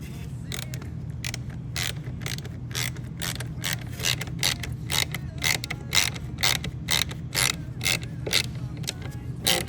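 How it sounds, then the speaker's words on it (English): A ratchet tightens the bolts of a license plate mount on a 2023 Acura Integra Type S, producing a rapid, repeated run of close, crisp clicking strokes with a steady rhythm over a low background hum. "quickly go in there with the ratchet just to snug them down, tighten them down so they don't fall off"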